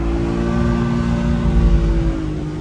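A car drifting on track with the brakes held through the slide, its engine droning loud and steady near at hand, the tone rising and falling slightly as it works through the transition.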